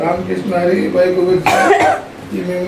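A person coughs sharply once, a loud harsh burst in the middle, with talking before and after it.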